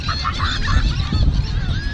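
A crowd of birds scavenging on an Ocean Cay beach squawks and honks noisily together, a dense overlapping chorus of goose-like calls that never lets up.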